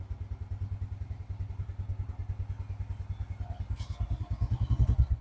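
A Honda Revo motorcycle engine idles close to the exhaust, a fast even putter of low thumping pulses that grows slightly louder and rougher near the end, with no talk over it.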